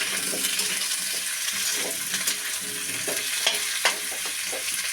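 Papaya and capsicum frying in oil with browned onions for a Bengali-style chicken dish, a steady close sizzle with a few soft scraping stirs, no talking.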